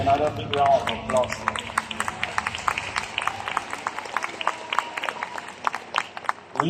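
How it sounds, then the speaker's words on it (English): An audience at a stage presentation breaks into steady applause of many hands clapping in a dense, even patter that lasts throughout, with a few voices calling out at the start. "let's give Katherine another big round of applause"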